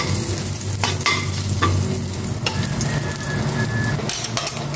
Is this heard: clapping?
no